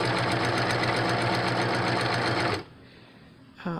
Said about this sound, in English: And then you're just sewing down the middle.